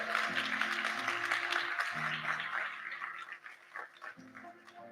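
An evening audience claps for a singer at a memorial celebration, a dense, steady wash of many hands over faint lingering music, tapering off toward the end.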